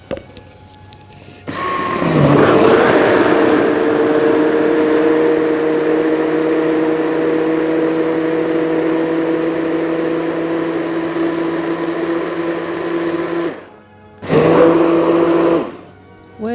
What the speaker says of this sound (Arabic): هجيب الهاند بلندر وابتدي اضرب دول مع بعض الاول